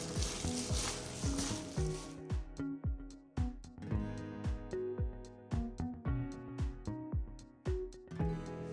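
Japchae noodles being tossed and mixed in a pan, with a sizzle at the start followed by a steady run of sharp clinks and scrapes of utensils against the pan, close and fairly loud.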